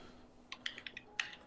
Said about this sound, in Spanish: que estás tecleando?